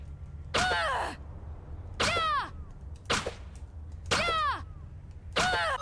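Gunshots in the video game Bloodstained: Ritual of the Night, five evenly spaced synthetic shots about a second apart, each a sharp burst with a descending tonal whine, loud against quiet background hum.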